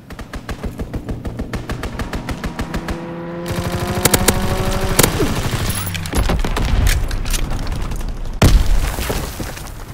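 A fighter plane strafes in a Call of Duty: WWII match, with long, rapid machine-gun bursts, sharp booming impacts and the drone of the aircraft, all loud and close, punctuated by heavy cracks near the end.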